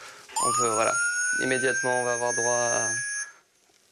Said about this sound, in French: une espèce de sonnerie qui va appeler tout le monde